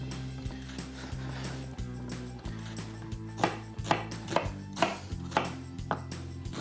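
Yam being diced with a knife on a cutting board, a run of quick, close knife taps growing steadier and louder toward the end over a low background hum.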